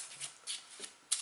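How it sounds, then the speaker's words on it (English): A deck of playing cards is riffle shuffled without bending, giving soft, brief papery riffles and flicks in a few separate bursts, faint and close up with no talking. "you're basically doing a riffle shuffle without actually bending the cards"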